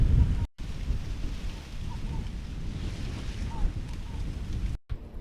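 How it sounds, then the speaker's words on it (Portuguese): Strong outdoor wind buffeting a microphone during a small drone's first flight, a steady roaring rumble throughout with brief cutouts near the start and end. "tá ventando muito"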